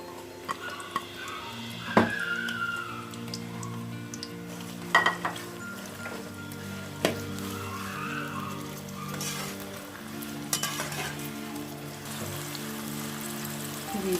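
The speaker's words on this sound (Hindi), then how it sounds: "प्याज को हमने ब्राउन करना है" Chopped onions fry in hot cooking oil for a chicken biryani, giving a continuous bubbling sizzle with a few sharp ticks and clinks of a utensil against the pot, heard alone at moderate loudness.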